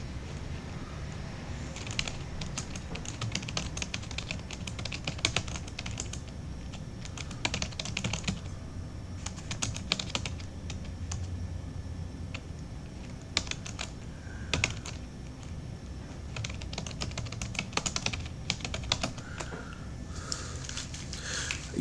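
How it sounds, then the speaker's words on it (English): Quick, uneven clatter of typing on a computer keyboard, with bursts of keystrokes and short pauses over steady low room hum, fairly close and with no talking. "I was quiet while I was typing"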